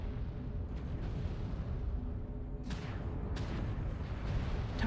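A mech blowing up as its target is destroyed in MechWarrior Online, a deep rumbling explosion with a couple of sharp bursts and rolling booms in the game mix.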